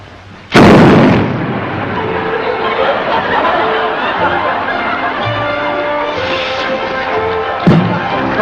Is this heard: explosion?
yes